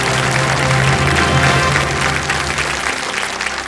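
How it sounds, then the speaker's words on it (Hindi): Studio audience applause on a Hindi TV quiz show, loud, dense, steady clapping from a large crowd filling the whole clip without a break. "एक बार तालियां बज जाए इनके लिए"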